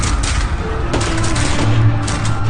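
Soldiers firing rifles in rapid, overlapping bursts, loud and close, a dense fusillade of sharp cracks continuing without pause.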